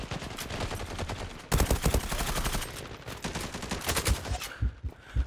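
Rapid automatic gunfire fills a round of the online shooter Zula, dense bursts of shots rattling in quick succession with short pauses between volleys, loud and close.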